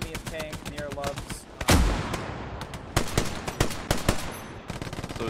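Rapid gunfire from a World War II battle in Hell Let Loose, sharp cracks and bursts of machine-gun fire in irregular volleys, one heavy blast, near and loud with faint voices behind.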